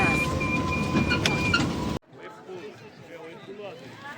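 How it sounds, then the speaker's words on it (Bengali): A toy train ride in a park at Digha gives a brief humming, rumbling run with a steady motor tone, then cuts to quieter surroundings where people are talking. "টয় ট্রেনে করে আমরা পার্কের মেইন ক্যাম্পাসে চলে আসলাম।"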